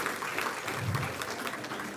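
Brief, moderately quiet applause from a small gathered crowd honoring a couple, continuous soft clapping with a faint murmur underneath.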